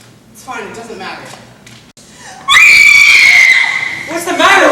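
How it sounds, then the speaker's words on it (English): A woman in a radio comedy-mystery lets out a loud, sustained high-pitched scream that follows brief talk and muffled sounds, then trails into further voices. "Who's screaming?"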